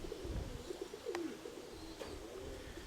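Pigeons coo in low, repeated throaty phrases close by, with a few brief sharper noises cutting through a steady background hum.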